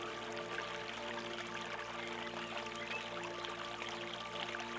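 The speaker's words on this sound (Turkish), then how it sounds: "Su sesi geliyor mağaranın içinden. Evet, burada mağaradan su çıkıyor." Steady rushing of a stream flowing out of a cave, a continuous broadband wash with no pauses, fairly close and even in loudness throughout.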